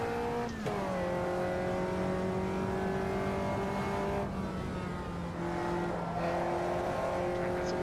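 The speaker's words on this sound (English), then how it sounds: "This car's so nice and light, it will get squirrely even in third gear." A light race car's engine drones steadily in a racing video game on cold tires, its pitch dropping and climbing through gear changes, loud and continuous with no talking.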